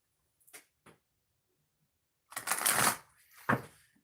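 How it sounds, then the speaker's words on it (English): A deck of oracle cards is shuffled by hand. Two small taps come first, then a longer riffling burst and a final snap of cards, close and crisp with no talking. "3 shuffles, viewers, before we get started."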